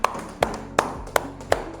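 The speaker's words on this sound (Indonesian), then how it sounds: "tepuk tangan dulu semua, tepuk tangan" Students in a classroom clap together in a steady, evenly spaced rhythm, five crisp claps in under two seconds, close and fairly loud.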